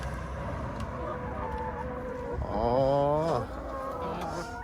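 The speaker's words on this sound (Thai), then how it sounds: "เลี้ยงไก่ไว้ประมาณนี้นะครับ" Chickens kept as egg-laying hens on a small vegetable farm in South Korea cluck steadily, then one bird gives a louder drawn-out crowing call in the middle; someone speaks briefly.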